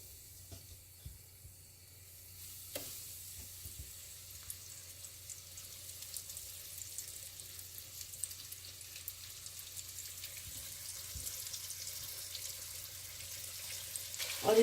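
Chicken wings sizzle in hot vegetable oil, a steady crackling hiss that starts after a soft clatter and grows gradually louder and denser, heard close with no talking.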